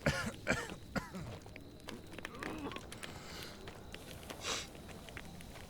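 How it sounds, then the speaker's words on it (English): A character in the horror video game Maid of Sker coughs and clears their throat while near fire, several harsh, close bursts in a row, with a few sniffs and quieter sounds between them. "Okay, fire makes me cough, so I can't say anything."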